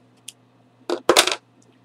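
Scissors snip through the end of a ribbon trim for a rustic tree ornament, two close, crisp cuts in quick succession with a faint tap before, alone in a quiet room.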